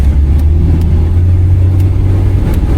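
A 1973 Jaguar Series 2 short-wheelbase saloon on the move, its engine a loud, steady low drone heard from inside the car, holding an even pitch throughout.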